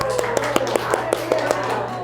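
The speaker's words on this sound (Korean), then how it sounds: "박수를 제가 쳐드리겠습니다." A pastor claps his hands during a Sunday church service sermon: about a dozen quick, evenly spaced claps in a steady rhythm, close and clear over a low constant hum.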